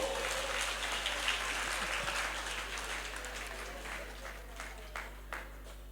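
Church congregation applauding and cheering during a worship service, a fairly faint, continuous patter of many hands with a few louder claps and shouts, fading toward the end.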